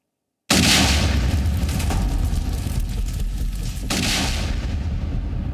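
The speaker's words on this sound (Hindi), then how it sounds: "धमाकों की आवाज के साथ आतंकियों की उल्टी गिनती शुरू हो गई है" Heavy explosions roar in a continuous, dense blast from the start, with a fresh loud detonation bursting in near the end over a rumbling, crackling wash of debris and noise.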